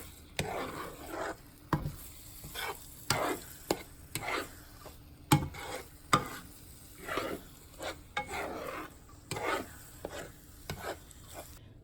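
Eggs being stirred into a Spam and vegetable mixture in a pan for fried rice, with repeated scraping strokes of a utensil against the pan over a low background hiss, close and moderately loud.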